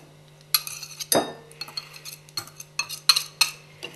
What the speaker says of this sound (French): Commencez par mélanger dans un saladier le beurre